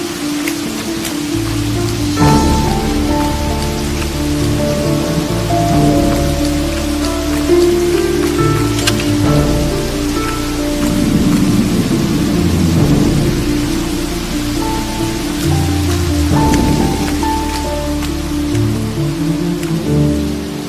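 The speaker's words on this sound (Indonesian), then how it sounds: "Hujan tambah deras." Heavy rain pours down steadily with low rumbles like thunder, heard beneath sustained music tones throughout.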